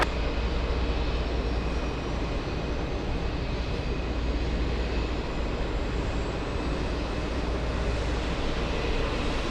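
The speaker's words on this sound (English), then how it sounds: "APU is starting up." An aircraft auxiliary power unit runs up at JFK Airport as a dense, steady roar with a faint high whine, loud and unbroken throughout, with no talk.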